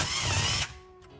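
A power tool runs briefly while removing a plate from a Nikki carburetor on a Briggs & Stratton Intek V-Twin engine, giving a loud, close whir for about half a second before stopping, followed by faint mechanical clicks.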